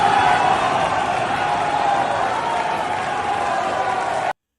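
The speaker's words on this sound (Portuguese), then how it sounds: "Porque eles estão sendo vaiados pelos outros deputados. Está todo mundo vaiando o Petro." Deputies in Colombia's assembly boo Gustavo Petro, a dense, steady wall of crowd noise with shouting and jeering that holds loud and unbroken throughout, then cuts off abruptly.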